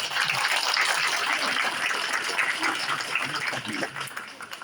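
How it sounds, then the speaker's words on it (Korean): A hall full of residents applauds the mayor of Seosan at a citizens' meeting, steady dense clapping from a sizable crowd that fades slightly near the end, with some voices mixed in. "이완섭 시장님을 힘찬 박수로 환영해 주시기 바랍니다"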